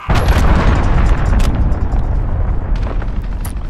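A cruise missile blast in the shooter game Call of Duty: Modern Warfare during team deathmatch: a loud, sustained booming rumble that rolls on for several seconds with scattered cracks and pops over it, no voices.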